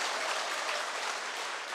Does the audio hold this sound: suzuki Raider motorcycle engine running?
no